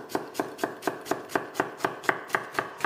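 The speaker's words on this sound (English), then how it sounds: "I'm going to chop the onions quite fine" Onions being chopped finely with a knife on a board in a quick, even run of about a dozen sharp, close taps, with no talking.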